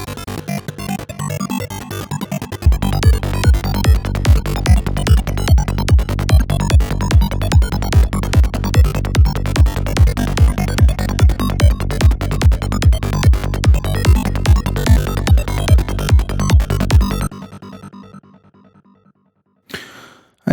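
A glassy, Access Virus-style psytrance lead synth built in Vital pulses in a fast, even rhythm over a steady beat, loud and dense, then cuts off and leaves a short fading tail.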